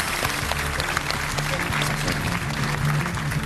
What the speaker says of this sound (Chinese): 掌声感谢一下哈，谢谢叔叔。